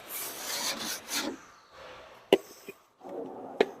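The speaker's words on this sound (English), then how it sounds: "you can take your drywall rasp and just smooth out the rough edge" A drywall rasp scrapes along the rough cut edge of a drywall board in several broad, raspy strokes up close, followed by a few sharp knocks and a final short scrape, with no talking.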